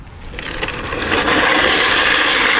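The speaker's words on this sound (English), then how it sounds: "The initial test drive with the starter motor drift trike." A drift trike powered by a starter motor on its first test drive, giving a loud, steady electric whine and rattle that builds over a couple of seconds and then holds, with no talk.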